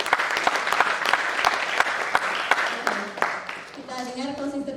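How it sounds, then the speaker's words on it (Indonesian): An audience at a symposium session claps steadily in a sustained round of applause, with some sharper individual claps, before a voice begins speaking near the end. "Tepuk tangan buat Mbak Ingrid boleh?"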